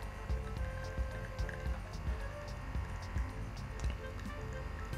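Espresso drips from a mini electric espresso maker, with soft irregular drips and liquid trickles over a low steady machine hum, heard up close with no talk.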